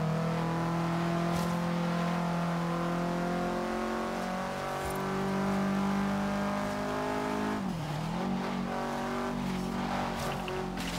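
Subaru car engine revving loudly and steadily in the Forza Horizon 3 racing game, with a sustained tonal drone that dips and climbs around a gear change, plus brief tire squeals, and no talk.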